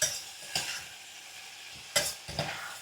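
Beef stew frying in a home kitchen pan, a steady low sizzle broken by four sharp scraping strokes of a spoon stirring against the pan, close and clear, with no talking.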